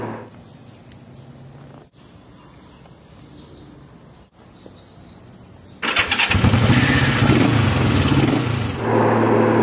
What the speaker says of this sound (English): I fired it up, and I mean to tell you, it ran like a dream.